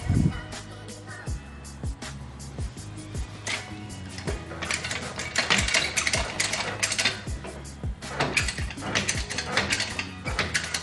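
A second jack ratchets repeatedly under a lowered Honda Civic EM1's coilover suspension to raise it, giving rhythmic metallic clicks and clunks close by, with occasional light clatter.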